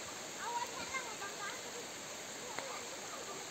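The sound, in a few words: strong current of a rising river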